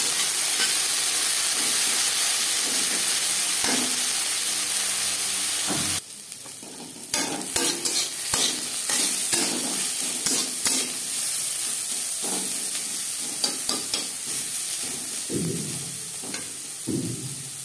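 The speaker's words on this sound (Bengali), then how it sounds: "তেল গরম হয়ে গেছে, এবার দিয়ে দেবো টুকরো করে কেটে রাখা ও পরিষ্কার করে ধুয়ে রাখা উচ্ছে" Pieces of bitter gourd sizzle steadily in hot oil, with a sharp burst of frying when they go in and occasional stirring scrapes over the continuous hiss.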